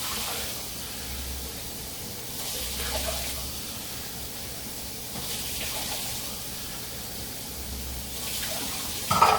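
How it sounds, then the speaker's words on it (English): Hot water runs from a kitchen sink tap into a pot while rice is being prepared, giving a steady, fairly soft rushing splash that swells slightly at times and continues throughout without talk. "So turn your sink on to hot and put in 4 cups of water."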